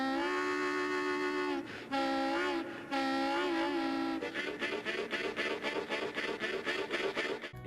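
A harmonica imitates a train in a recording: long wailing whistle-like chords give way to a steady, rhythmic chugging of huffed pulses, loud and close with no voices.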